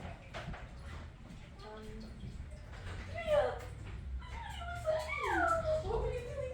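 A pet dog in a household whimpers and yips in rising, wavering high whines, with a few short barks, heard close over faint room noise.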